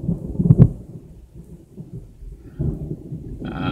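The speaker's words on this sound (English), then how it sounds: "the lightning, the thunder's going off like crazy." Low rumbling thunder from the outer bands of Hurricane Hermine after the rain has stopped, with a strong close boom early on followed by softer rolling grumbles and a brief higher noise near the end.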